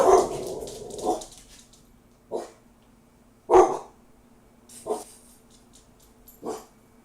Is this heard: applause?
no